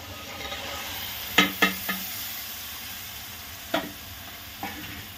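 Mixed vegetables of peas, potato and cauliflower are stirred in a frying pan for vegetable pulao, with a few sharp spoon scrapes and clinks over a soft, steady sizzle and no talking.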